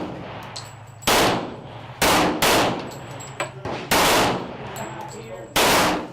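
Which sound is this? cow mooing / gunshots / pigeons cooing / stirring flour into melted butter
gunshots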